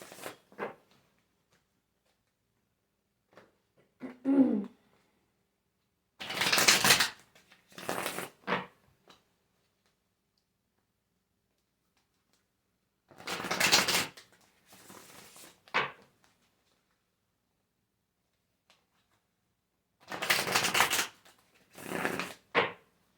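Tarot cards being shuffled by hand in several separate bursts of crisp riffling and flapping, close and clear with quiet gaps between.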